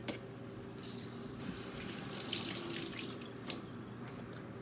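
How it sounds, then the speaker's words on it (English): Scallions being washed under a running kitchen tap, a steady broadband rush of water splashing into the sink with a few brief drips and knocks, close and continuous, with no talking. "So I'm going to be washing my scallions,"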